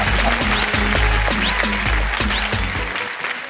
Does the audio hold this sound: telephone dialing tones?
no